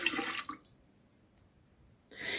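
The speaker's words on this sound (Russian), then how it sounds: "В дежумиксера я выливаю молоко, теплое и воду." Warm milk and water poured into a stand mixer bowl, a short close hissing splash that stops, a pause with faint clinks, then pouring resumes.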